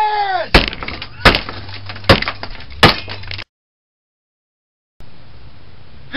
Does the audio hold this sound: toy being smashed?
yes